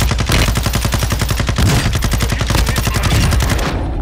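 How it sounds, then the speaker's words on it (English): Rapid automatic gunfire in Call of Duty: Modern Warfare II, a loud, continuous stream of evenly spaced shots close up, running without pause before stopping abruptly at the end. "Yeah, they're shooting."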